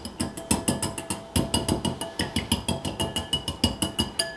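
A whisk beats egg yolk with liquid ingredients for blueberry muffin batter, fast, even metallic clicks against the bowl repeating at a steady rhythm, close and clear.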